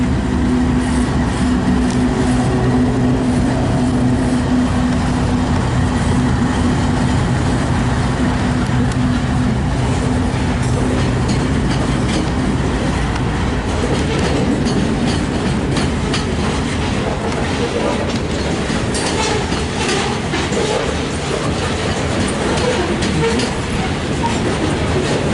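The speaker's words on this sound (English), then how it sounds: "So we get a loaded grain train." A loaded grain train rolls past close by, its steady heavy rumble and clickety-clack of wheels continuing throughout with a low droning tone early on and rattling cars later.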